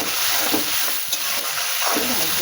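Chili, cumin seeds, garlic and onion sizzling in a hot pan, a steady loud crackle with occasional scrapes of stirring and no voices.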